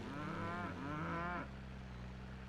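In the farming video game Cattle & Crops, a cow gives a single drawn-out moo that wavers in pitch, sounding close and clear over a steady low background hum.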